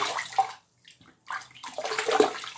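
Water splashes and sloshes in two bursts separated by a short quiet gap, as someone rinses their face at a sink during an evening skincare routine; close and moderately loud.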